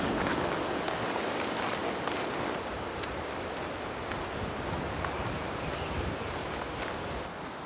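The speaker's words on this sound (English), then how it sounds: "it's super windy out here" Steady wind blows through an open dry wash in an Escalante desert canyon, a constant broadband rush with no talk.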